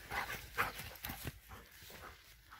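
An old female dog and a puppy play together nearby, producing scattered soft yips, whimpers and scuffling paws in quick irregular bursts.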